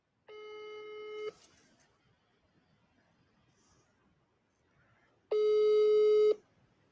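A telephone call rings unanswered: two separate one-second electronic ring tones, steady and clear, with a quiet gap of several seconds between them and faint background murmur.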